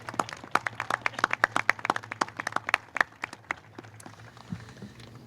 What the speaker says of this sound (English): let's just give all of them just a big round of applause for that